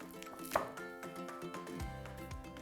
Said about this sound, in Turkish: Aldım maydanozu, şöyle bir buket yaptım ve ince ince kıyıyorum.